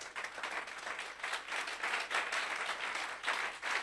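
A church congregation applauds, a dense steady wash of clapping from many hands that swells and holds for several seconds.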